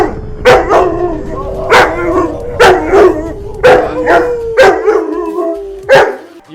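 A dog barks loudly and close by indoors, giving about eight sharp barks in a steady, evenly spaced rhythm, each with a slightly howling, drawn-out tone.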